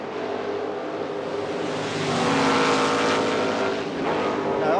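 Formula 5000 race cars from the 1978 Rothmans Series scream past on track, a continuous loud engine roar that swells midway as cars come through lapped traffic, with commentary faintly underneath.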